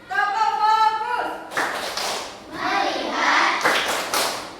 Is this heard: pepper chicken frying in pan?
no